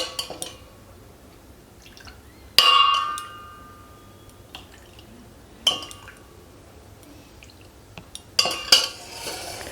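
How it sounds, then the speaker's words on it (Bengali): A spoon or ladle knocks against a bowl while patishapta pitha batter is mixed with added milk, sharp clinks at a few spaced moments over faint wet stirring, close and without talk. "আমি আরও 4 হাতা পরিমাণ দুধ এখানে দিলাম, দিয়ে এটাকে মিশিয়ে নিচ্ছি।"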